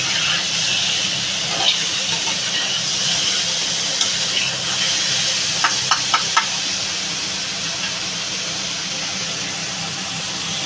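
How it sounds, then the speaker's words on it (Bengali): Taro root sautéing in a pan for a hilsa fish curry, giving a steady broad sizzle and hiss throughout, with a few brief utensil knocks near the middle. "কচুটা ভালো করে একটু কষাবো।"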